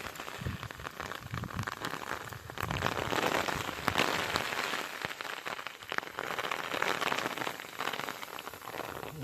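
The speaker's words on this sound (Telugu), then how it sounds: "రగులుకున్నది వర్షము" Rain pours down steadily on an outdoor spot used for eel fishing, a dense, close patter of drops hitting surfaces that grows a little heavier midway and carries on without talk.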